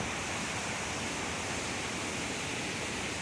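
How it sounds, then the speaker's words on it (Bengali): A waterfall beside a path in Connecticut pours a dense, steady rush of broadband water noise, constant and fairly loud throughout with no voices. "ফলস বইছে"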